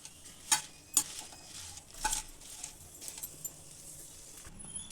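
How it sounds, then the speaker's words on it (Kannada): Guntur and Byadgi dried red chillies frying in a pan, with soft, steady crackle and stirring scrapes, plus a few sharp clinks of a utensil against the pan. "ಗುಂಟೂರು ಮತ್ತು ಬ್ಯಾಡಗೆ ಮೆಣಸಿನ್ಕಾಯಿ ಸುಮ್ಮನೆ ಹಂಗೆ ಫ್ರೈ ಮಾಡಿಕೊಂಡು ಎತ್ತಿಟ್ಕೊಳ್ಳಿ"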